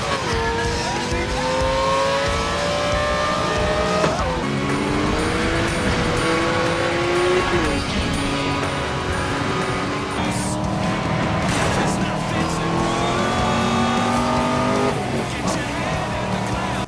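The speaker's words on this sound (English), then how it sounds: "The cars are modeled beautifully and they sound great." Licensed cars in a Burnout-style racing video game, engines revving and shifting through rising pitch sweeps with tire squeals and skids, loud and continuous over a game soundtrack.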